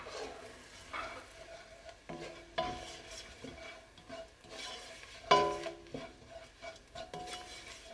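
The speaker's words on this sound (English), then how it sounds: "now I'm going to add in the spices and give that a stir" Spices being stirred into chili, garlic and onion in a pan for a vegetable curry: a soft sizzle under scraping strokes and a few sharp clinks of a utensil against the pan.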